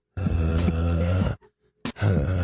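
A voice imitates the groaning noise of the cartoon character Tina, a long, steady nasal moan lasting over a second, then a brief pause and a second groan starting, close and loud with no words.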